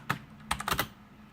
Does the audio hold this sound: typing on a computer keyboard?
yes